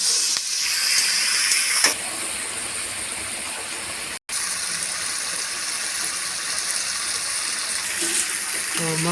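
Chicken pieces sizzle loudly in a hot pan as they go in, a steady close hiss of frying that carries on for several seconds with only a momentary break.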